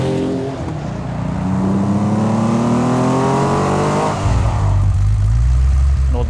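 A car engine revs and accelerates loudly up through the gears, pitch climbing with each shift, close and continuous while driving a demanding road.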